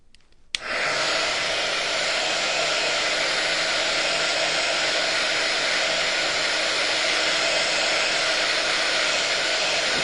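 A hair dryer blowing over rice paper on a snow globe mould clicks on after a short quiet start, then runs as a loud, steady whooshing drone to the end with no voices.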